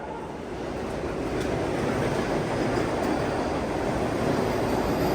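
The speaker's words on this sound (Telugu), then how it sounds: "ఏ వందే భారత్ ఎక్స్ప్రెస్ ఇది" A Vande Bharat Express rushes past a station platform, a loud, steady roar of wheels and air that swells slightly and holds without pause.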